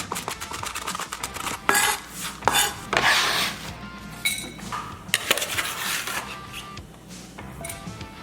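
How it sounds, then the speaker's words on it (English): A knife rough-chops crispy bacon on a board, giving a run of sharp, close knocks and clatters with some metallic clinks, irregular and moderately loud, with no talking. "Got our crispy bacon. I'm just gonna rough chop this up."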